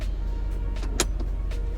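A power window on a 2019 Suzuki Hustler 660cc moves at the press of a button, a short, soft motor whir inside the cabin with a small click partway through.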